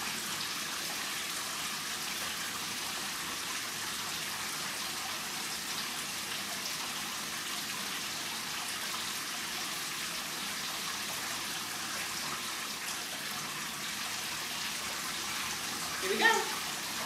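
Tap water runs steadily in a cold rinse of wet, curly hair, a constant soft hiss and splatter at close range with no pauses and a brief louder splash near the end.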